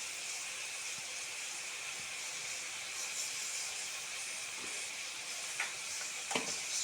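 Onions and tomatoes frying in a pan give a steady, fairly faint hiss and sizzle throughout, with a few soft stirring clicks and knocks near the end.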